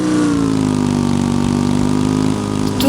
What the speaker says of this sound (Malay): Cika, jomlah naik motor.